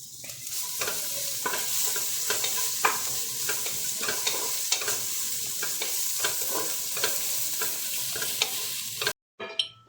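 Ginger, green chilli and garlic fry in a hot pan with a steady loud sizzle, while a spoon scrapes through them in repeated stirring strokes. The sound cuts out abruptly near the end.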